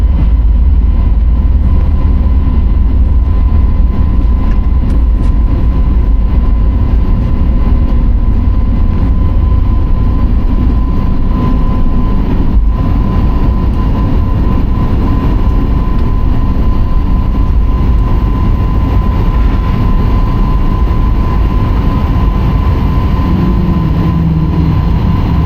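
A Lynx Air airliner takes off from runway 08 right at Vancouver's YVR, its jet engines roaring steadily and loudly throughout, a constant heavy rumble with a whining tone heard from inside the cabin.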